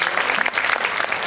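Dense, steady applause from an audience at a teacher award ceremony, loud and continuous throughout, with no voices over it.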